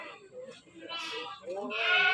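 Goats bleat among the crowd at a livestock market in Kebumen, Java, where Jawa Randu goats are traded; several wavering, nasal calls overlap with nearby chatter, rising louder near the end.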